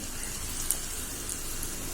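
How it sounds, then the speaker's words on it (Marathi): Hot tempering of oil, mustard seeds, green chillies and asafoetida poured over rice dhokla batter sizzles in a soft, even crackle like light rain, with a few small pops and no talking. "आता ही फोडणी आता मी या बॅटरवर होते"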